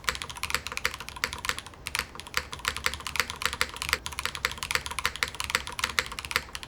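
Rapid, continuous typing on a mechanical keyboard fitted with yogurt switches, crisp close keystrokes tapping in a steady, dense rhythm with no talking.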